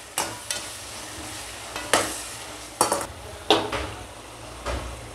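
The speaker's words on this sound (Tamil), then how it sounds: "மல்லித்தூள், நல்லா வதக்கி விட்டுக்கலாம்." Sautéing with coriander powder in a pan for brinjal thokku, with a low sizzle and several sharp spoon-on-pan scrapes and knocks at irregular intervals, close by and clear.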